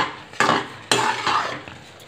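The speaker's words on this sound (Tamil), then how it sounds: "தண்ணி சத்து போற வரைக்கும் நல்லா கிளறுங்க" Utensil scraping and stirring thick semolina for rava kesari in a pan, with two sharp clanks of metal against the pan and a softer scrape between them.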